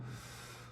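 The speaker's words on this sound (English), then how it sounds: "Maintenance is doing some kind of sawing, apparently, or drilling." A short, steady burst of harsh, rasping mechanical noise from maintenance workers sawing or drilling inside a building, fairly loud and continuous for under a second with no voices.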